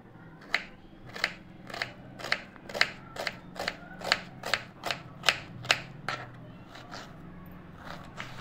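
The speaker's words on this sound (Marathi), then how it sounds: "या कांद्यांना बारीक चिरून घेते।" A knife chops onions finely on a board, with about fifteen crisp, evenly spaced cuts close up and no talking.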